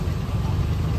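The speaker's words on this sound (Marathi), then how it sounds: "आता आमची रिक्षा परत पाठी चाललेली आहे" An auto rickshaw engine runs steadily and close by as the vehicle turns back in a crowded street during a palkhi procession, a low continuous drone with no voices.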